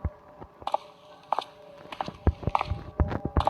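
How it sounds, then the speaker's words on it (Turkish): Footsteps in a horror video game inside a two-storey house: irregular thudding steps, some close and sharp, some softer, spread across a few seconds with faint background ambience and no speech. "o ayak sesi benden gelmedi."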